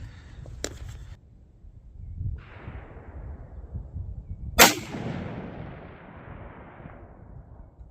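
Single loud, sharp report from a Savage Axis rifle chambered in 6.5 Creedmoor, fired outdoors on a range, with a short decaying echo tail after the shot and low background rumble before it.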